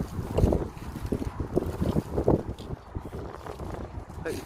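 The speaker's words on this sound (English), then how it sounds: "it's a bit nice day out here, but it's just a bit windy." Gusty wind buffeting a microphone outdoors near WW2 pillboxes in Essex, loud irregular rumbling blasts rising and falling throughout.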